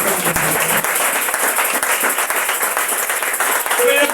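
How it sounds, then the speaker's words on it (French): A church congregation at a sermon applauds, steady dense clapping filling the space at a loud, even level throughout, with voices mixed underneath. "On applaudit pour notre parole."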